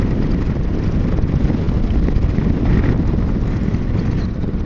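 A Harley-Davidson CVO Street Glide motorcycle rides along with a low, rumbling engine drone buffeted by heavy wind rush, steady and loud throughout.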